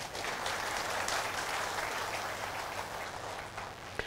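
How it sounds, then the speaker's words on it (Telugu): Steady applause from an audience at a Telugu health talk, a dense continuous patter of many hands clapping at even loudness for the whole stretch, with no voices over it. "చప్పట్లు తట్టండి అయ్యా."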